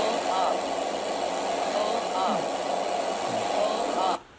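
A Cessna 172 engine is throttled up in Microsoft Flight Simulator 2020, a steady buzzing drone held for about four seconds before stopping abruptly, with faint talk underneath.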